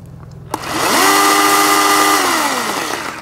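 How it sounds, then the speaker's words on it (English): Ryobi One+ 18V battery chainsaw cutting through wood: a loud, close motor whine rises sharply, holds steady under load for about two seconds, then winds down, with no talk. "just to show how the chainsaw goes through"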